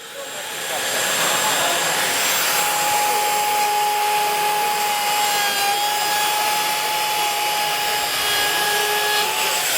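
A Festool Conturo edge trimmer climb-cuts along edge banding, its motor rising within the first second into a loud, steady, high-pitched whine that holds to the end.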